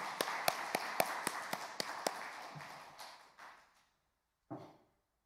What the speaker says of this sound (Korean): 우리 목장장 식구들에게 격려의 박수 한번 부탁합니다